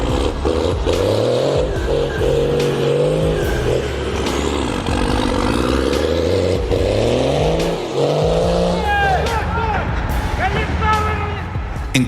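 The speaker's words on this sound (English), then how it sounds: "a loud first-gen Cummins trapped in the snow" A loud first-generation Cummins diesel truck stuck in snow roars continuously with rising and falling revving, heavy low rumble and whining spin throughout, dense and close, with other engine noise layered in.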